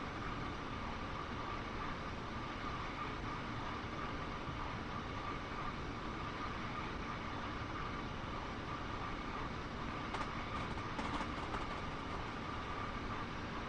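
A train in Train Sim World 2 travelling at high speed, heard as a steady, dense rumble and rush that stays constant throughout, with faint clicks near the end and no talk.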